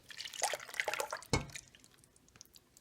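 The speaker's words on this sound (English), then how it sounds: "I'm going to go ahead and add the liquid." Liquid is poured into a pan of cauliflower while making a vegan chickpea curry, giving soft, faint splashes and drips, with one fuller splash midway before the sound tapers off.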